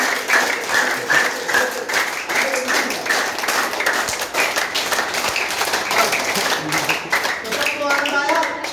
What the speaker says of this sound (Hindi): ताली डेली बजाइए दीदी, ताली बजने से आधे रोग खत्म हो जाते हैं